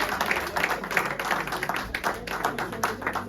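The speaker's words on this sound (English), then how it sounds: "Give us that round of applause." Brief, moderate applause from a small seminar audience, a patter of many hands clapping steadily for a few seconds in a room.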